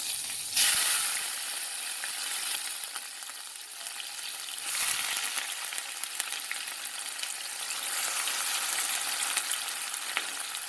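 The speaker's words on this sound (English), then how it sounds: "So while your seasoning is frying up, you constantly stir it because you don't want it to burn or stick." Steady crackling sizzle of seasoning frying in hot oil, loud and close, with brief surges as it's stirred; no voices.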